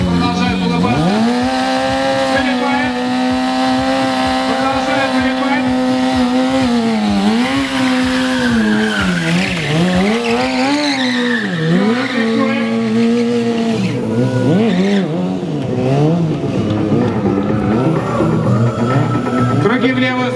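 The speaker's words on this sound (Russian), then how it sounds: "Завел свой мотоцикл!" A freestyle motorcycle engine at a 2011 St. Petersburg stunt competition revs loudly and continuously, its pitch rising and dipping through repeated throttle swells, with possible tire skidding and a commentator talking over it.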